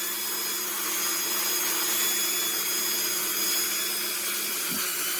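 Dremel rotary tool at about speed 15 with a wheel, lightly cleaning the edges of a polymer clay pendant, a steady high-pitched whine running continuously and close, with no talking.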